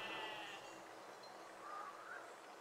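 Sheep in a physics puzzle video game bleat faintly, a couple of thin, drawn-out calls over a steady hiss of background game ambience, with no talking.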